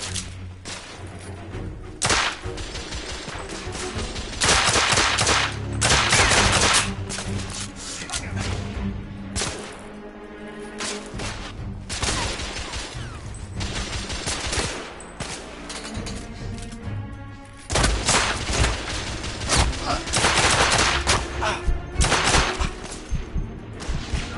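Gunfire in the video game The Order: 1886, with dense bursts of rapid shots and loud impacts that keep going for the whole stretch. Heavy thuds and whooshes from the battle come through between the volleys.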